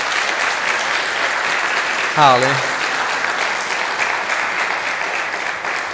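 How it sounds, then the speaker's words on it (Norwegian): Church congregation applause, a steady wash of many hands clapping throughout, with a short spoken exclamation over it partway through. "Jeg lurer på om dere kan gi dem en applaus."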